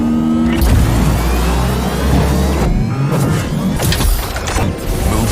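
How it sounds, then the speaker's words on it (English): A car engine revs hard and loud, a dense roaring whoosh with rising tones and short bursts, heard alone without talking. "Engine."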